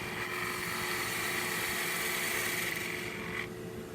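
A gouge cuts a wooden bottle stopper spinning on a lathe, giving a continuous steady whirring hum with a bright scraping tone that eases off near the end, with no talking.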